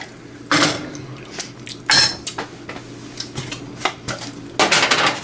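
A metal spoon scrapes and clinks against a pot of chicken and dumpling soup, a few distinct stirring strokes with soft liquid sloshing between them, close and fairly quiet with no talking.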